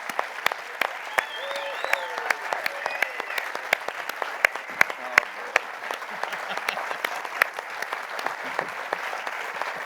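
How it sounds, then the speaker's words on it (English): Scattered, sharp individual claps stand out over a moderate crowd's applause at a veterans' D-Day remembrance panel, continuing for about ten seconds, with faint voices and whoops mixed in. "So let's just a round of applause, folks."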